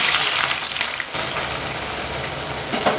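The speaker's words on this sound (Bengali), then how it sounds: "সাদা তেল আর কিছুটা ঘি অ্যাড করে বেরেস্তাগুলো ভেজে নেবো" Beresta onions frying in white oil with a little ghee for biryani, a steady dense sizzle that stays loud and close throughout with no talking.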